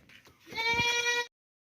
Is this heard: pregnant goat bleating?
yes